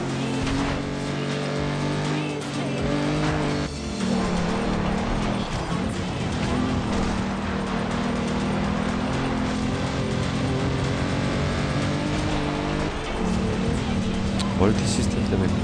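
A car in Forza Horizon 2 drives and revs with a steady, loud engine roar that shifts pitch as it speeds up, while someone talks over it throughout.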